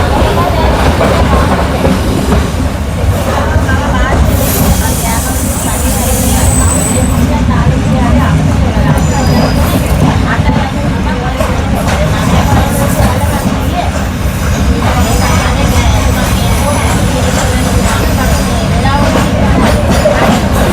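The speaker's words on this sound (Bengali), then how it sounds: "তো আমাদের ট্রেন এখন যাচ্ছে।" A Sri Lankan passenger train runs along the rails near Galle toward Unawatuna, a loud continuous rumble with wheel clatter heard from inside a third-class carriage, with voices mixed in.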